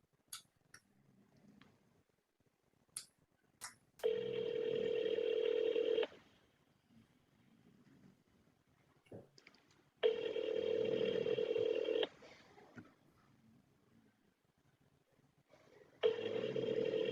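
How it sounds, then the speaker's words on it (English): Ringback tones of an outgoing telephone call sound three times, each a steady two-second electronic purr separated by about four seconds of near silence, with a few faint ticks at the start. "I'll have to call Vilma."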